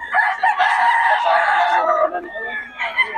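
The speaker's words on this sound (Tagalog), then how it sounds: "Naulan na yung mga manok ni Boss Tony" At a market in Bocaue, Philippines, several rain-soaked chickens cluck and a rooster crows in a busy, continuous chorus, fairly close and loud, with someone talking intermittently over them.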